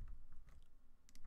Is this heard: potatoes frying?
no